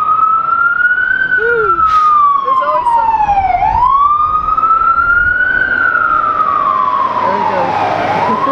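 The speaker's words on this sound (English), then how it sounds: "maybe we should wait for the siren." A loud emergency vehicle siren wails past on a New York City street, its pitch sweeping up and down in long cycles while a person speaks briefly under it.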